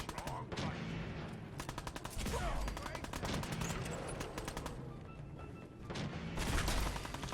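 Laser rifle shots in a science-themed video game with radioactive dinosaurs, rapid bursts of repeated gunfire-like blasts in several volleys, loud and close with a voice talking over them.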